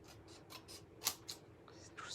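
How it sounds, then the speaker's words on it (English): Scissors fussy cutting stamped paper for a card, a few quick close snips and soft paper rustles, quiet and up close. "Let's fussy cut, just use those lines as a guide."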